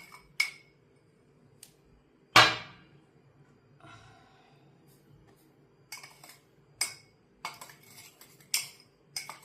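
Rava laddu mixture of semolina, grated coconut, powdered sugar, dry fruit slivers and milk cream being mixed in a bowl with a spoon, giving scattered metallic clinks and scrapes, a sharp clang near the start, against a quiet background.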